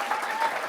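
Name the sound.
audience applause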